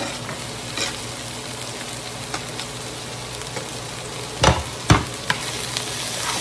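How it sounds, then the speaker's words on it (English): Zucchini browning in a frying pan among garden vegetables such as okra, a continuous close sizzle and crackle broken by a few sharp knocks of a utensil against the pan near the end, no voices. "Kind of browning our zucchini a little bit."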